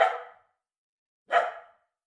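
A dog gives two separate sharp barks about a second apart, clear and fairly close with silence between them.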